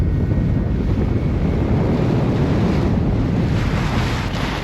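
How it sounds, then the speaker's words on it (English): Ocean swell and surf roll around a solo sailboat where the Bass Strait meets the open sea off Tasmania, a loud, constant rushing wash thick with wind buffeting the microphone, with no voices. "A majestic swell is running."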